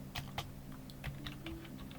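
Quick, light keystrokes tap out a command on a computer keyboard for the Rising World game, a dozen or so close, crisp clicks in an uneven rhythm.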